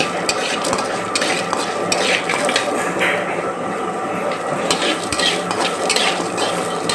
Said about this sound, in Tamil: அடுப்பில் எண்ணெய் சட்டியை வச்சு எண்ணெயை ஊற்றி கொஞ்சம் உளுத்தம்பருப்பு, கொஞ்சம் கடலைப்பருப்பு